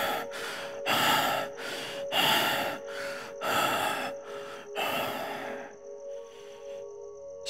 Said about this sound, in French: Your breath continues to rasp in rapid gasps.